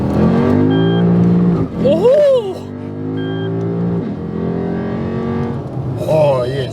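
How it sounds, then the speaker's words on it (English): A Lexus IS F accelerates at full throttle, its engine note loud and rising steadily over several seconds, with people exclaiming and talking over it from inside the car. "Commencing full throttle."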